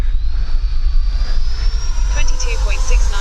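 A Freewing F/A-18C 90mm electric ducted-fan RC jet passes overhead, a loud whooshing roar with rising whine and rumbling wind noise, close to the microphone.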